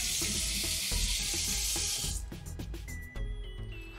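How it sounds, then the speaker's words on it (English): A paintbrush swished and rinsed in a cup of water during a children's painting activity, giving a steady close watery sizzle and splash for about two seconds before it settles into quieter dripping and clinks. "Let me rinse this out."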